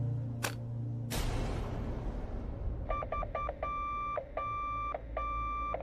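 After a couple of sharp clicks and a crash, an electronic phone ring trills in repeated short bursts, steady and fairly close.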